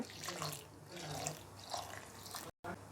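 Water pours steadily into a container of rice for soaking, with a soft, continuous splashing, close up, briefly cutting out near the end.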